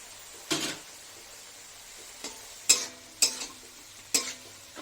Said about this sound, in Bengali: মশলাটা আমি কষিয়ে নিই ভালো করে